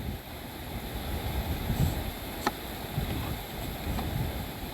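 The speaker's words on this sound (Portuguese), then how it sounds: "Ó o vento querendo levar." Strong wind roars steadily against a small mini drone flying outdoors, a dense, rumbling buffet with brief louder gusts and no voices.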